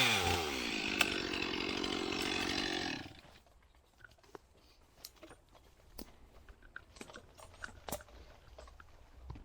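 Chainsaw cutting through the holding strap while felling a tree, a loud steady high-pitched saw whine for about three seconds that cuts off abruptly, followed by quiet rustling, cracking and scattered knocks of falling wood.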